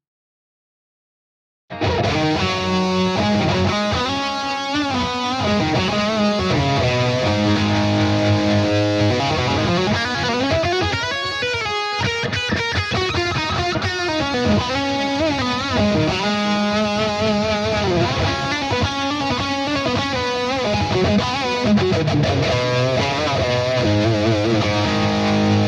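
Electric guitar played through a Blackstar St James amp plugin with distortion and delay, a sustained loud riff lasting over twenty seconds after a brief silence, no talk.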